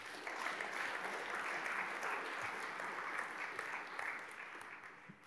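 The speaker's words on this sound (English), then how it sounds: "can we give them a round of applause?" A crowd applauds steadily, a dense wash of clapping that holds for several seconds and then begins to fade.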